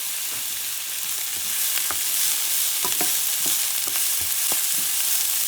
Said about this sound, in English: Stir for a little bit.